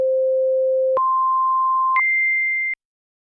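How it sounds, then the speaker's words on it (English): A pure synthesizer sine tone from a Hydrasynth, loud and clean, stepping upward in three steady held pitches about a second each before cutting off into silence. "Let's first go ahead and listen to a sine wave where you'll see the fundamental is nice and"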